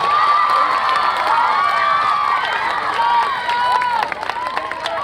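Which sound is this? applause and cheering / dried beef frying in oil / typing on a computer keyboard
applause and cheering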